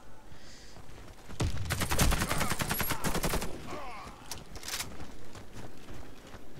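Rapid bursts of automatic gunfire from the FY 103 gun in the shooter game Warface, a dense rattling volley lasting a couple of seconds, then scattered quieter shots and game noise.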